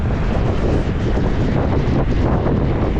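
Strong wind and rain on Hiiumaa island, Estonia, buffet the microphone in a steady, roaring rush, with low rumbling gusts throughout and no voices.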